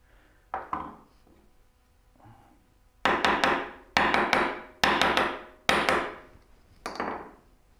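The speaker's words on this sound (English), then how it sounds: "chisel for taking out the large mass" A chisel driven with mallet blows cuts away a large mass of wood while a rolling cabinet base is built: a couple of isolated knocks, then five loud, sharp, evenly spaced strikes ringing close by with no talk.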